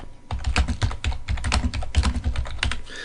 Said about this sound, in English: what you can also do is you can type in here